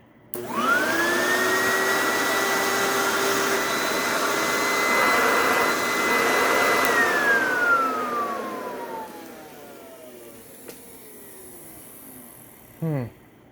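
A donated vacuum cleaner motor that sounds a little off whines up, runs at a steady high pitch, then winds down, followed by a couple of brief clicks near the end.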